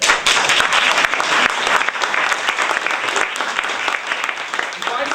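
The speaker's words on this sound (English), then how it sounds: "Big applause." An audience at a hypnotist's training session applauds after a subject is woken from trance, with dense, loud clapping throughout and some voices underneath.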